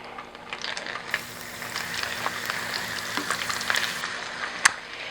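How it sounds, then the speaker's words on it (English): Sage leaves frying in olive oil in a pan, with a steady close crackle and a few sharper pops. "I'm going to fry some sage."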